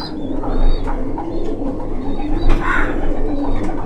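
Imported red-eyed pigeons cooing in a loft, soft low repeated coos over a steady background rumble, with a few brief chirps and flutters nearby.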